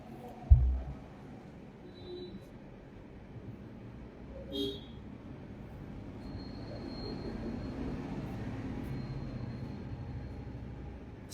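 A Vande Bharat train passes at a distance, a faint rumbling rail noise that builds gradually, with a brief wheel squeal and a sharp knock near the start.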